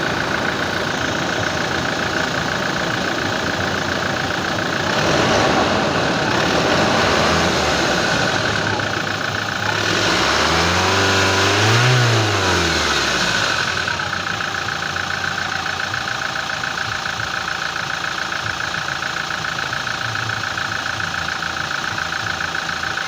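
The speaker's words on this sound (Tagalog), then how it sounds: "At i-rev natin yung makina kung maganda yung ba yung andar na makina" A car engine idles steadily, then revs up and back down once in a rising and falling sweep before settling into its idle, close and loud.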